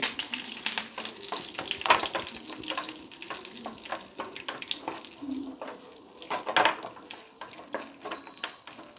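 Chickpeas and almonds being stirred in a pan as they fry for a stuffed banana snack: steady sizzling with repeated scraping and clinking strokes of a spoon against the pan, close and continuous.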